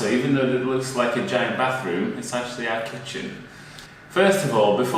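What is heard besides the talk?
No everyday noises stand out.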